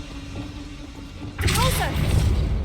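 A Confringo blasting spell from a Harry Potter video game erupts suddenly after a quiet stretch, a loud burst with swirling magical whooshes and rumbling debris that stays strong to the end.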